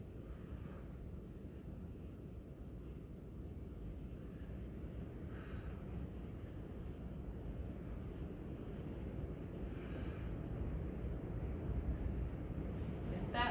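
Wind buffets outside a building in a low, steady roar that slowly builds, with faint rustling and occasional higher gusts, no voices.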